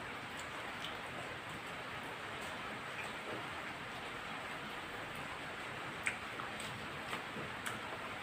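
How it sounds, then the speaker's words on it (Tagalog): Steady rain falls throughout, a soft, even hiss of drops with occasional louder taps on a surface, heard alone and at low level. "Maulan ngayon."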